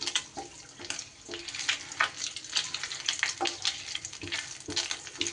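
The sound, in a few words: bay leaf and whole garam masala frying in oil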